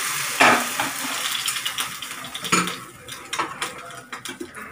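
Hot oil stirred into fermented dhokla batter for dangela, a spoon scraping and clinking against the bowl in a run of close, irregular metallic taps and wet mixing sounds.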